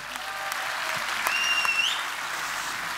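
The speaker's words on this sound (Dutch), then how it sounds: "Geef hem een groot applaus." Warm audience applause at a sport and culture award ceremony in Venray, a dense, even round of clapping from a crowded hall, with a faint whistle rising briefly in the middle.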